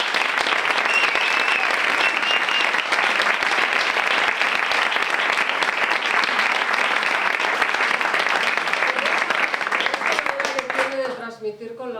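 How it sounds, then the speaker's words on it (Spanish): Loud, sustained applause from an audience at a literary storytelling event, dense and even throughout before fading, with a voice emerging as the clapping dies down. "Y un aplauso enorme, por favor, para Mariano Manga."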